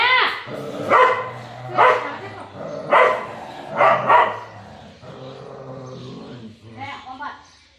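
A dog barks nearby in a string of sharp single barks at a steady pace, then whines and yips softly toward the end.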